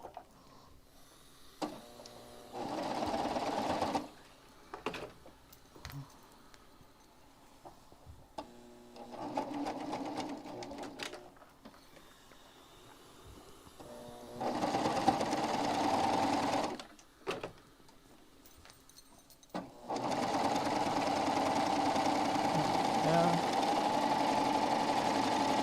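A serger overlock machine running a four-thread overlock seam in a Valentine's wave stitch, with loud bursts of rapid mechanical whirring that start and stop several times before ending in one long continuous run.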